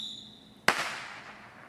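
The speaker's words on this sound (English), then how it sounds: "shooting his first fireworks here" A single sharp firework bang goes off on a July 4th evening, a sudden loud crack that decays into a hissing, crackling tail, heard alone after a faint steady tone.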